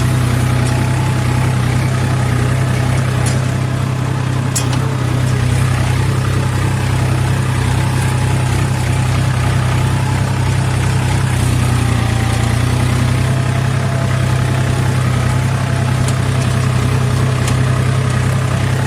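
A New Holland 4710 4x4 tractor engine runs steadily for nearly twenty seconds in a field after ploughing, a constant heavy low diesel drone with vibration and occasional faint clicks, loud and close, with no talk.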